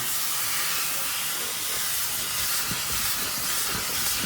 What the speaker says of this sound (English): We have another crew out here steaming the seats.